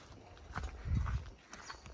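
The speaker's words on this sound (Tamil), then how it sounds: "குதிரை போகுது." Horses walking past on a hill road at Sirumalai near Dindigul, a few soft, uneven hoof clops with a low rumble, faint and somewhat distant, no voices.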